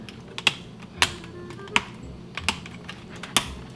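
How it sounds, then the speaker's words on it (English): Tesla Model Y yoke steering wheel airbag clips snapping into place, giving a handful of sharp, close plastic clicks spaced irregularly over a quiet background. "you gotta hear those clicks. That clicks will let you know that it's securely fastened to the actual steering wheel."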